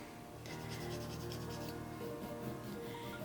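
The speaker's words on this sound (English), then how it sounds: "filing the rough glue, which is why you can go back and forth in any direction without worrying about that damaging your nail" Rough glue on a broken nail being filed back and forth, a steady close rasping scrape that runs continuously and evenly throughout, with no talking.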